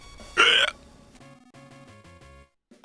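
A character in Mother 3 gives a single loud, sharp hiccup, followed by short game music tones and then another brief burst at the end.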